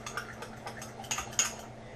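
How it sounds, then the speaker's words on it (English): Utensil clinking and scraping against a bowl while mixing a mayonnaise and mustard salad dressing for a beet greens salad, with light repeated taps and stirs, close and fairly quiet. "what I do is just mix it around."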